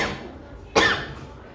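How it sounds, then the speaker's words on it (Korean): A teacher gives a single sharp, loud cough in a Korean high school English lesson, a short burst rising out of the quiet room and fading back into soft background. "목이 막혀가지고 기침이 나왔네"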